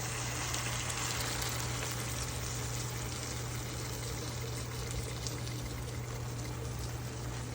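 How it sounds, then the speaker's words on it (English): Tomato sauce emptied from a can into a dish, a steady pouring, gushing liquid wash that runs continuously and fairly loud throughout, with no talking. "get a can of your tomato paste. Tomato sauce, and empty that in."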